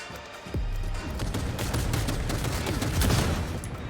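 Heavy cannon fire in Cyberpunk 2077 combat, a loud booming blast followed by sustained rapid firing and dense explosive rumble that persists to the end.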